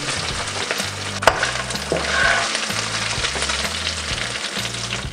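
Beef that has softened and browned to golden sizzles and crackles steadily in a pan, loud and close, with a few stirring scrapes and no talk.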